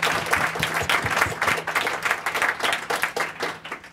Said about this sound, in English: let's give Halley, LaRue, and Stefanie another round of applause